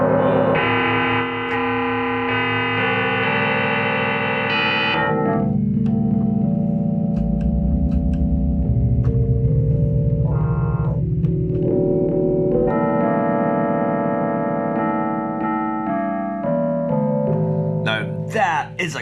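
A synthesized FM tubular bells voice from a Yamaha PSS-390 keyboard rings out in sustained, sliding bell-like notes with a metallic, distorted edge, played alone and fairly loud.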